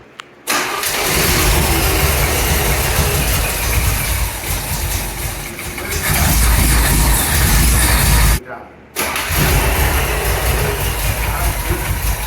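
The engine of a 1975 Chevrolet C10 truck under rebuild starts and runs at a loud, close idle with a steady rumble, briefly cut off and restarted, as people talk nearby.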